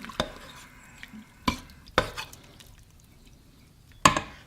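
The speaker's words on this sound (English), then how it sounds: "I'm going to stir it up a little bit." Chili with tomato sauce gets stirred in a pot, a spoon knocking against the sides in five sharp, separate clacks spaced over a few seconds, with quiet scraping between them.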